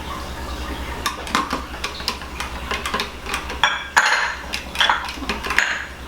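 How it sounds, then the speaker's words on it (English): Eggs, flour and cocoa being mixed together in a bowl for fudgy chocolate cupcakes, giving repeated clinking and scraping of utensil against the bowl in an irregular rhythm, close and fairly loud over a steady low hum. "And I'm going to mix these all together."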